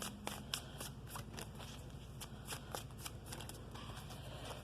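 Tarot cards are shuffled close up, a quiet rapid riffling with repeated soft flicks and slaps in an even rhythm.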